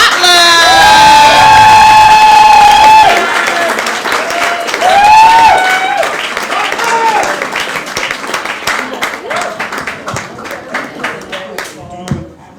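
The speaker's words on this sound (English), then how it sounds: "start clapping it up for Tyrone Watler" A comedy club audience applauds and cheers for a comedian taking the stage, loud clapping and whoops from a close, packed crowd that swell at first, then thin into scattered claps and shouts as the noise fades.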